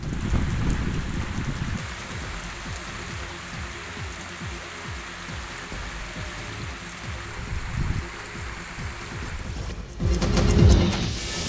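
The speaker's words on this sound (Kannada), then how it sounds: "ಕಳೆದ 3 ದಿನಗಳಿಂದ ಕೊಪ್ಪಳ ಜಿಲ್ಲೆಯಲ್ಲಿ ಭಾರಿ ಮಳೆ ಆಗ್ತಾ ಇದೆ." Heavy rain falls steadily across Koppal district, a dense wash of close downpour with rumbling low noise that swells louder near the end.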